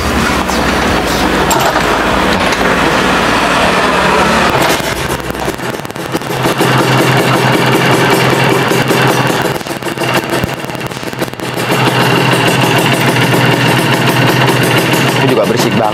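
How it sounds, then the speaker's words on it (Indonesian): A loud, close motorcycle engine runs continuously with a low rumble and wind buffeting, while a person talks over it. "Ini juga berisik banget sih kok motor ini."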